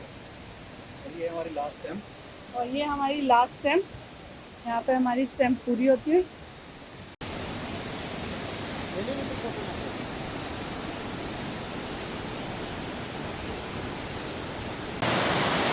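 A waterfall at Kawazu Nanadaru in Izu, Japan, roars as a steady, broad rushing wash, first faint beneath a man's speech, then alone and louder after an abrupt cut.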